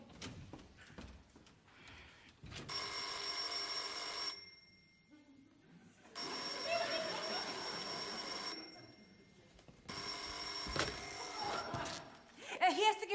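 An old-fashioned telephone bell rings in three long, loud trilling bursts with short pauses between them, with people talking in between, in a Bavarian stage comedy.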